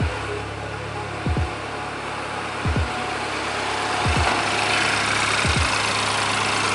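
BMW 328i F30 engine running after a spark plug change, a steady low idle hum with a few soft, regularly spaced thumps.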